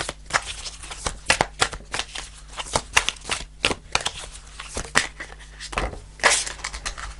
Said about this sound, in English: Let's shuffle 6 cards.